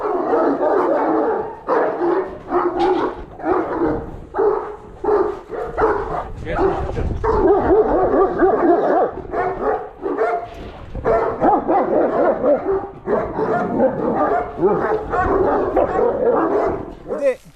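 Dogs fighting after leaving a cage, caught on GoPro: repeated loud close barking, yips and snarls in irregular bursts throughout, with people talking over the fray.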